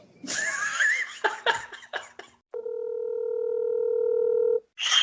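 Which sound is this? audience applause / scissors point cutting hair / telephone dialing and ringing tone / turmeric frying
telephone dialing and ringing tone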